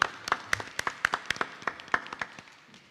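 Scattered, uneven clapping from a small audience at a school board meeting, a handful of sharp claps spreading out over a few seconds and then fading away.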